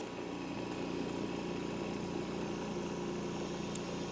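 An Eastwood QST 3060 air compressor runs with a steady, loud mechanical drone and fine rattle throughout, an even motor hum with no pauses or voices.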